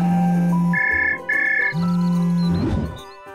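A phone ringtone plays a simple electronic melody of alternating low and high tones, loud and close, then fades out.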